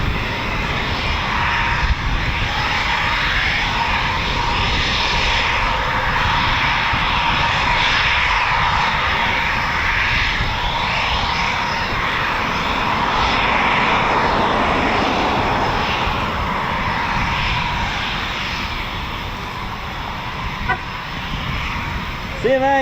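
RAF Typhoon FGR4 fighter jets at RAF Coningsby roar continuously with a loud, broad engine rumble that swells and eases over twenty seconds, heard from a distance outdoors.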